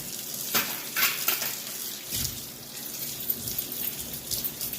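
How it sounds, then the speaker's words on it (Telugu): Cleaned silver utensils are rinsed under water, with close splashing and running water mixed with light clinks of metal, steady throughout at moderate loudness. "చూడు ఇప్పుడు ఒకసారికి కడుగు."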